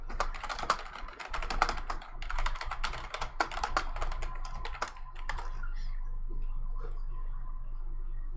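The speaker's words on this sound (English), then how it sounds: "I'll just type that." Rapid typing on a computer keyboard during 3D modeling work, with dense clustered keystrokes for about five seconds, then a quieter background hum with occasional faint clicks, close and clear with no speech.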